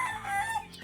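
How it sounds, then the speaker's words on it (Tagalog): Young roosters crow in a pen, a short, loud, close crow with a wavering harmonic tone, other birds faintly behind. "Itong mga cockerels, alpasan ko."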